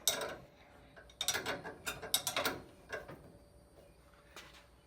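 A ratchet wrench tightens a 21 millimeter nut on a classic Volkswagen bus steering wheel, giving bursts of quick metallic clicks in short runs separated by pauses, close and fairly quiet.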